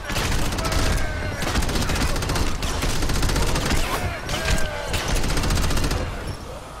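Rapid bursts of gunfire from the video game Crackdown crackle in dense, overlapping volleys during a riot fight, loud and sustained with brief lulls between clusters of shots.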